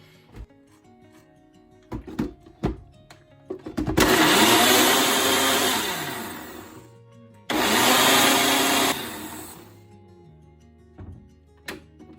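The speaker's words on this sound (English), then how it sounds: "I am mixing mine in a Ninja blender." Ninja blender mixing an overripe banana milkshake: a short pulse, then a loud sustained whirring roar for several seconds, a brief stop, and a second run, with clicks and clunks between and no talk.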